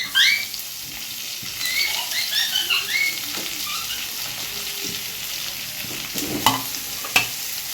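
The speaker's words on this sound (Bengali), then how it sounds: "এই সঙ্গে ভাজা ভাজা করে নেবো আমি" Boiled potatoes sizzling and frying in a pan, with the scrape and clatter of stirring throughout and a few sharper knocks near the end, close and steady with no talk.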